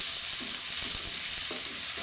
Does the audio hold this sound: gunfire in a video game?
no